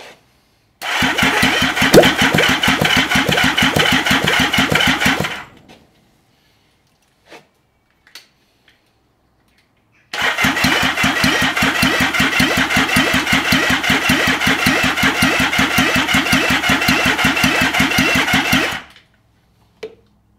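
An unmuffled Yamaha XS750 motorcycle engine fires up and runs in two loud, close bursts, one of about four seconds and a longer one of about eight seconds, each a rapid, rough pulsing bark, with near silence and a few small knocks between.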